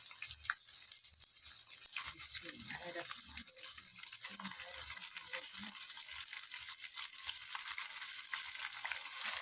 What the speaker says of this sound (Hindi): ये देखिए अब हम इसमें कीमा डालने लगे हैं